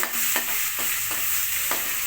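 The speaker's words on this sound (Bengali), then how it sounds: "এখন একটু ভাজা ভাজা করে নেব চিকেনগুলো" Chicken pieces fry in hot oil in a pan for chow mein, giving a steady close sizzle with several stirring scrapes at intervals, no talking.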